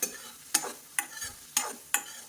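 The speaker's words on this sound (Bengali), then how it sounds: "পনিরটাও মোটামুটি ভাজা হয়ে গেছে" Paneer frying in a pan makes a soft, quiet sizzle, broken by about five sharp, evenly spaced scrapes or taps of a spatula, with no voices.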